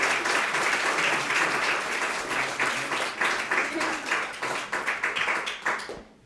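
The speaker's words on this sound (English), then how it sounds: "So please give them a round of applause" An audience claps and cheers for speakers being welcomed, a dense sustained applause that thins into scattered claps and fades away at the end.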